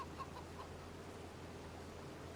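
Chickens in the farming game Farming Simulator 25 cluck in a few soft, short calls early on over a faint steady background hum, quiet and a little distant.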